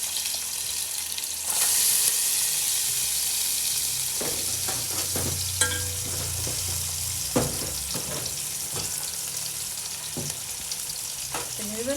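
Spring onion bulbs sizzling and frying in sunflower oil, a steady loud hiss with scraping stirs and clinks from a utensil on the pan at close range.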